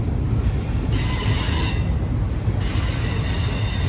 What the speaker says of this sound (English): We do have a train coming by though.